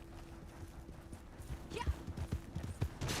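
A horse's hooves clip-clop on the ground in Red Dead Online, an uneven run of thuds that grows louder midway, while someone speaks briefly.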